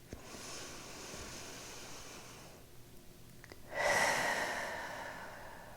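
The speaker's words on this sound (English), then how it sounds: "Let's take a cycle of breath here together." Slow, soft breathing during a gentle beginner yoga session: a long airy exhale, a pause, then a fuller breath in, close and quiet with no talk.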